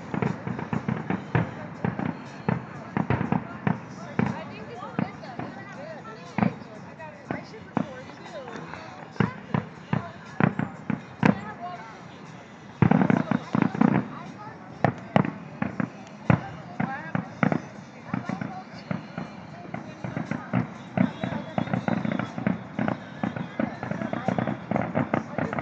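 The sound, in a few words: fireworks rapidly exploding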